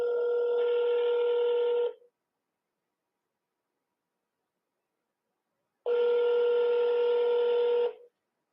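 Ringback tone of an outgoing telephone call, two long steady electronic rings about four seconds apart with silence between, loud and clear with no talking.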